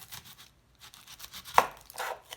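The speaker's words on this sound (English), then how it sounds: "We're gonna use half of our onion. First thing I wanna do is cut off this end right here." A chef's knife cuts the end off an onion on a cutting board, with one sharp close chop after a few soft scraping sounds, quiet otherwise.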